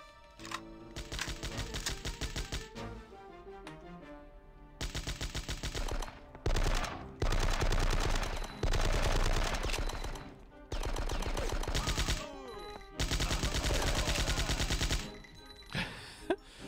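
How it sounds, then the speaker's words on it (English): Machine gun fire in the Die Hard: Nakatomi Plaza video game, rapid loud bursts of automatic shots in repeated stretches separated by brief pauses. "that boss drops this machine gun, which we then use to cut our way out"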